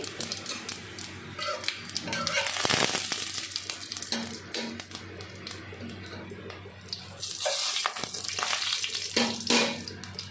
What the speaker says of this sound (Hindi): एबे तेल गरम हो गलानी मु किछि जीरा दे दोची देखुथिबे आउ लंका दीटा पके दोची